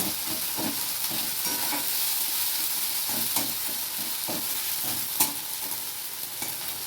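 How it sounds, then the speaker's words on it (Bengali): Tomatoes and ginger fry in a pan for a green-banana kofta curry, with a steady close sizzle and repeated scraping strokes of a spoon stirring through the whole stretch. "টমেটোগুলো একটু ভাজা ভাজা হয়ে যায় আদা দিয়ে, নাহলে একটু কষে না নিলে গন্ধ বেরোবে তো।"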